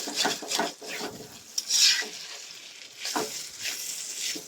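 Fried vegetable bhaji being stirred and pushed aside in oil in a pan, with uneven scraping and rubbing strokes over a soft sizzle, close by and with no talking.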